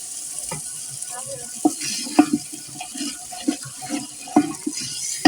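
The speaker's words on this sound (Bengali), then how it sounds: "অল্প করে পানি দিয়ে দিচ্ছি মশলা কষানোর জন্য।" A little water is poured into a pan of frying ginger, garlic, turmeric, chili, salt and cardamom, producing a soft steady sizzle with occasional spoon clinks, close and moderately quiet.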